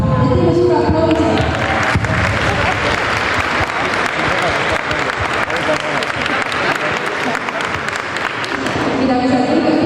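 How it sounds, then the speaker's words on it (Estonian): A crowd in a building's atrium claps in big, sustained applause, thick and loud from start to finish with no pauses, near and enveloping. "Ja teeme suure aplausi"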